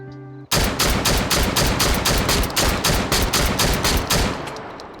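Expedite 12 shotgun in the VR game H3VR fires about a dozen loud, evenly spaced shots in rapid succession, with no talk.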